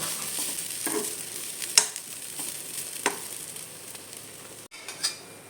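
Anchovy heads gently dry-roasting in a pan over low heat give a soft, steady sizzle, with a few sharper scrapes and clicks from stirring.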